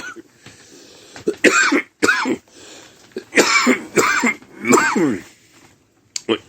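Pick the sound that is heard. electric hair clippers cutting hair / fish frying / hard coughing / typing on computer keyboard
hard coughing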